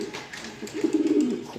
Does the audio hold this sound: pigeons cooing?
yes